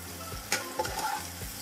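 Potatoes fry in oil in a pan for dum aloo, a continuous close sizzle broken by a few scraping stirs of a utensil against the pan.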